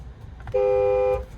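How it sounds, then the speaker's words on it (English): The horn of a low-mileage 2021 Chevrolet Silverado High Country pickup with a 6.2L V8 gives one steady, loud, close-up honk of about two-thirds of a second, with no talk over it. "There's the horn."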